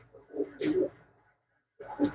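A pigeon at a fanciers' sale gives soft, low throaty coos in two bursts, a rolling call followed by a short pause and another coo, close and fairly quiet.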